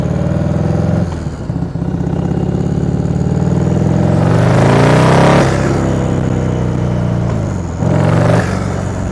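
Turbocharged 2020 Harley-Davidson Low Rider S motorcycle engine revving loudly and pulling hard, its pitch climbing and then dropping with a quick blow-off valve release, and the revving pattern repeating near the end.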